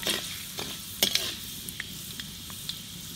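Mustard seeds frying in hot oil for vendhaya kulambu, a fenugreek curry: a close, steady sizzle broken by scattered sharp pops and crackles, with one brief louder burst near the start. No voices.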